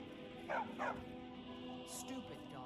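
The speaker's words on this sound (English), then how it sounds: "Stupid dog." In the Skyrim video game, a dog gives a couple of short yips and whimpers close by, set against soft background music.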